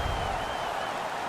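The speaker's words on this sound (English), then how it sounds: "Their man's won the fight. The crowd is ecstatic." A hockey arena crowd roars and applauds after a fight in a Toronto Maple Leafs vs Chicago Blackhawks game, a dense, steady wash of cheering throughout.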